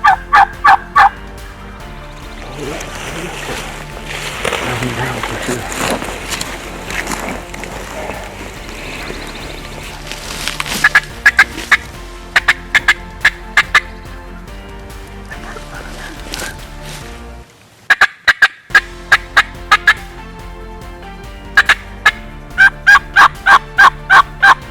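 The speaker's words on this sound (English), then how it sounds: "We got turkeys gobbling everywhere." Wild turkeys gobbling in a pine woods during spring season, several birds sounding off in repeated bursts from moderate distance, some calls overlapping, with rustling in between and a brief quiet gap.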